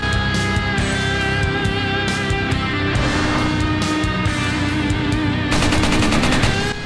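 Chicago Typewriter submachine gun blasting in Resident Evil 4, with loud, dense automatic bursts and gunfire effects filling the whole stretch, swelling near the end, under game music.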